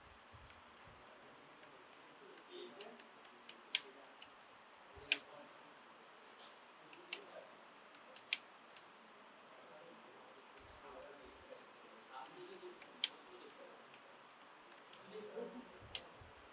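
Someone types an AI prompt on a computer keyboard, making soft, irregular clicks and taps in quick bursts with short pauses, close by in a quiet room.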